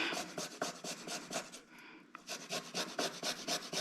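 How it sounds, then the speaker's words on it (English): A garlic clove being rubbed back and forth on a rasp grater, steady rhythmic rasping strokes up close with a short pause midway, for a Chinese broccoli pad see ew sauce. "I'm going to once again use my rasp grater to just"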